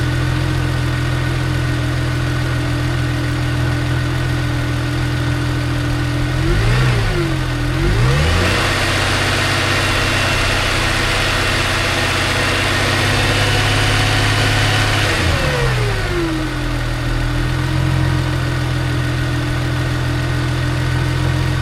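A Chevrolet Malibu or Silverado engine idles loudly up close with a steady hum, rising into two distinct revs that swell and fall back to idle.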